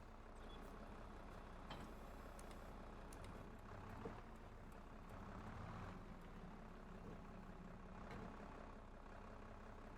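A small tractor idles in Farming Simulator 22, a low, steady engine rumble that runs evenly throughout at a faint, distant level.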